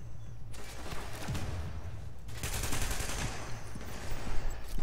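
Rapid automatic gunfire bursts from a shooter video game, dense and loud, continuing in sustained rattling volleys with a short gap, with no talk.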